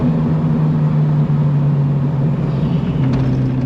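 Ferrari F40 engine and exhaust under way, a loud, steady low drone with a strong humming tone that holds throughout and dips slightly in pitch near the end, fitted with a fairly sedate exhaust system.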